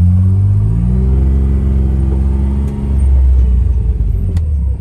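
A tractor running a rotary rake at full throttle during dry hay work, a steady loud low engine drone with stable harmonic tones throughout and a brief dip before resuming.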